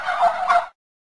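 A turkey gobbles in one quick, bright warbling burst lasting under a second, loud and alone, then silence, played as a sound effect in an Android children's alphabet game.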